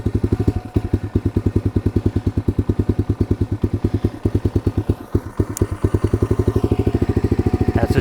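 A cheap 125cc pit bike bought on Amazon idles steadily while warming up with the choke on, its single-cylinder engine putting out an even, rapid, close-up putter with no one speaking.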